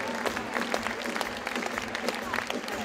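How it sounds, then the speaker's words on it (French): Audience applause at an anniversary dinner evening, a dense, steady wash of clapping from a large crowd that carries on at full strength with no break. "Applaudissements."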